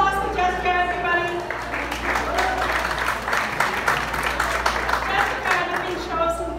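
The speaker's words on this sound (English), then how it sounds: "How about a big round of applause?" Audience applause at a media awards gala for an Asian culture and media alliance, a full room clapping continuously at steady volume, with some tonal music or voices faintly underneath.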